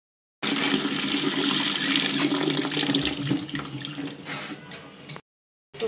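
Water pours steadily from a tap over apples being washed, a loud continuous gushing rush lasting about five seconds before cutting off abruptly.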